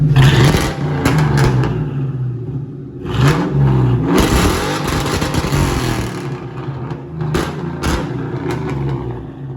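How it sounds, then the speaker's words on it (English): A Ford Mustang GT with mufflers fitted after running straight pipes revs up close and loud, climbing and falling in a few swells before settling back to a rumbling idle. "Give it a rev."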